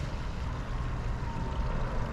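Mad Lizard RC boat with SS turn fins and a SonicWake V2 setup running at full throttle on the water, a faint, continuous motor whine and hull wash with no pauses.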